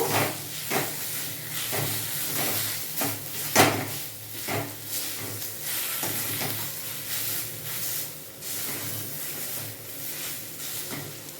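A spatula stirs and scrapes pointed gourd fry with sugar and coriander leaves in a hot pan, a steady sizzle broken by repeated rhythmic scraping strokes, close and clear with no talking.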